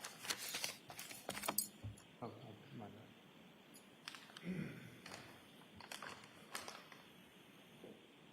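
A bag holding Volvo car keys and headphones, handled as a courtroom exhibit, gives off several close, sharp metallic jangles and rustles in bursts against a quiet room, with faint voices in the background.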